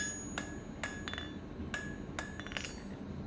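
Sharp, ringing hammer blows strike hot metal at the back edge of an anvil while a blunt point is forged for a leaf hook. Seven or eight irregular metallic strikes ring out close and clear, with no talking.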